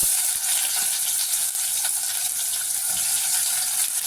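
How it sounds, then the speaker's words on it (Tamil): Whole spices, cinnamon, cloves and fennel seeds, frying in hot oil for paneer biryani, giving a steady close crackling sizzle that holds evenly throughout with no talking. "இந்த பட்டை கிராம்பு சோம்பு எல்லாத்தையும் போட்டுக்கலாம் இது நல்லா பொரியுது"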